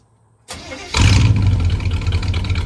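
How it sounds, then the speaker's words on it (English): A 1985 Chevrolet C20 truck engine that had sat for over ten years cranks briefly, then catches and settles into a loud, rough idle close by. "Let's see if she'll fire."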